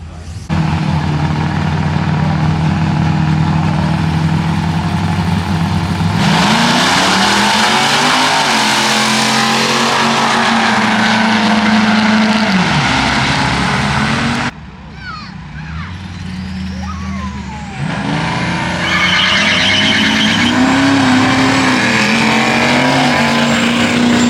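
A two-wheel-drive diesel pickup with a drop-in turbo races down the drag strip at MO-KAN Diesel Drags 2024, its engine roaring loud and close, winding up through rising turbo whine with a brief break before accelerating again.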